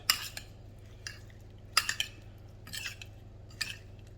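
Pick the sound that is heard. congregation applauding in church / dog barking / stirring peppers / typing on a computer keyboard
stirring peppers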